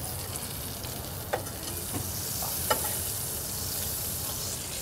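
Meat sizzling loudly in a hot frying pan while being basted, a steady close hiss and crackle with a few sharp spoon clicks against the pan, and no voices.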